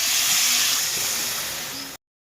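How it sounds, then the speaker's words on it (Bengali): Water used to rinse spices is poured into a hot pan of potato curry and hisses loudly and steadily, fading slightly before cutting off abruptly. "মশলা ধোয়া জলটা দিয়ে দেওয়া হচ্ছে"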